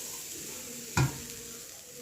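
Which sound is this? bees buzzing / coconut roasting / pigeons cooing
coconut roasting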